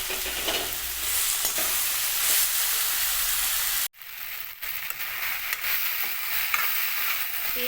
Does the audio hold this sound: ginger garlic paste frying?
yes